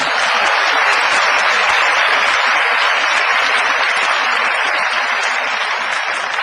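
A lecture hall audience at a university talk claps in sustained, dense applause that holds steady at full volume for several seconds with no speech over it.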